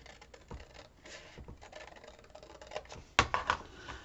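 Scissors snipping paper while fussy cutting a decoration for an accordion album: quiet, scattered scratchy cuts and rustles, with a louder burst of crisp snips near the end.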